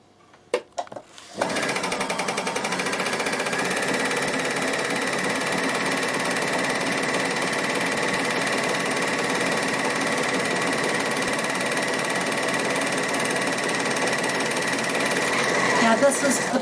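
A Bernina sewing machine stitching fabric runs in one continuous, loud, even whir after a few brief handling clicks at the start, with no pauses.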